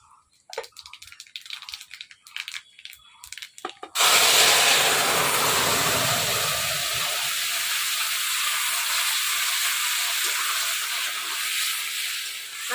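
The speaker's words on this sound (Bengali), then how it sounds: "একটা লঙ্কা চিড়ে দেবো, ফোড়নে দেবো কালো জিরা" Slit green chilli and nigella seeds hit hot oil in a heated kadai for a village-style spinach curry, bursting into a loud, steady sizzle after a few seconds of quiet talk, then hissing on and slowly easing.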